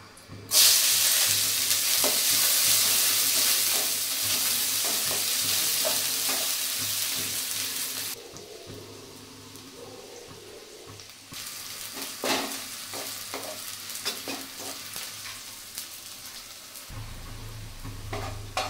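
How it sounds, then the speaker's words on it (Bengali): Onion and garlic fry in hot oil with a loud, steady sizzle, which drops when the stirring starts. Scraping stirs and clinks follow at close range, and the sizzle swells again. "পেঁয়াজ আর রসুনটা ভালো করে ভাজা হয়ে গেছে"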